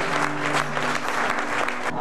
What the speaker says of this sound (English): let's give them a big round of applause for what they've done and what they're gonna do